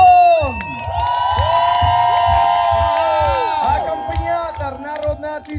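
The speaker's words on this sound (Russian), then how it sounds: "аплодисменты!" A concert audience at a Tiraspol show cheers and applauds for a singer, loud and close, while a voice holds a sustained call over the crowd noise, which swells and then fades toward the end.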